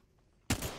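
Semi-automatic weapon fire in the Apex Legends video game, a sudden loud burst cutting in after a quiet stretch and holding to the end.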